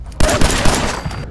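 Gunfire in Fallout 4: a loud, quick string of shots at an uneven rhythm, close up and alone.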